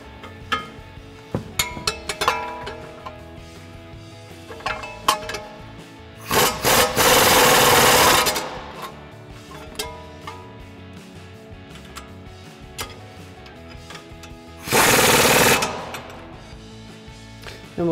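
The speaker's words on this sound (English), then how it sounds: "tighten these back down using our 24 mil socket extension on our impact" An impact wrench with a 24 mm socket and extension tightens coil-over bolts on a 1994-2004 Mustang in two loud buzzing bursts of about two seconds each, between quieter clinks and handling noises.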